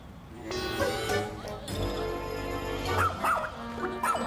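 A dog barks and whimpers in the Pikmin 4 demo, a string of yips and whines of moderate loudness over the game's music and ambient tones.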